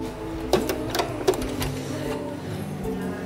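A sewing machine running a zigzag stitch at a public sewing house, a steady close whir with a few sharp clicks near the start, under faint background voices.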